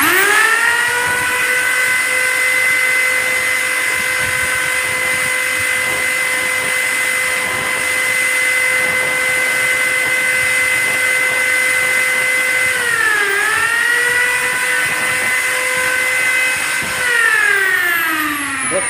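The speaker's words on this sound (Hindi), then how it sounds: "जैसे ये ड्रिल मशीन को ऑन करूँगा मैं" An electric drill machine, run without its capacitor, whines steadily and loudly at close range for about nineteen seconds, its pitch briefly sagging and recovering twice.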